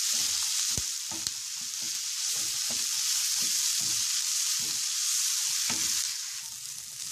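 Paneer sandwich filling sizzles and fries steadily in a pan on the stove, with repeated stirring scrapes and taps breaking through the constant hiss.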